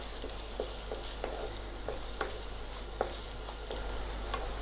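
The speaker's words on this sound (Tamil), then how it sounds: "கொஞ்சமாக கருவேப்பிலை இது சேர்த்துட்டு நல்லா 2 நிமிஷம் நல்லா வதக்கலாங்க எண்ணெயில்." Onions and curry leaves sautéing in oil for a curry, a soft continuous sizzle broken by regular light clicks of a spoon stirring the pan, close up with no speech.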